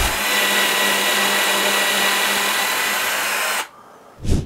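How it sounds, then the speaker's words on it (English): A power drill bores a hole through a model railway layout, a steady loud whirring whine lasting about three and a half seconds before stopping abruptly, followed by a brief thump. "we're going to take our drill and we're going to drill a hole right here"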